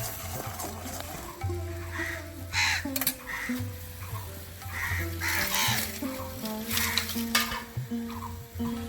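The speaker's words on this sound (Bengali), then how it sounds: "মশলাগুলোকে বেশ খানিক্ষণ কষিয়ে নেওয়া হচ্ছে" Spices in mustard oil are sautéed for eggplant in a pan, giving a continuous sizzle with stirring scrapes and clinks. A low background hum runs underneath, and sound from nearby carries through.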